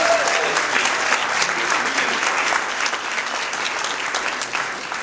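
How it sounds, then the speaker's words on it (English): An audience at an event claps in dense, steady applause that carries on loudly throughout and fades slightly near the end. "So I want to make sure that folks give him a round of applause for specifically that,"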